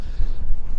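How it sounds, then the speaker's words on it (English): Gusty wind buffets the microphone outdoors at St Bees, Cumbria, producing loud, uneven low rumbles and thumps in quick bursts. "it's really windy here"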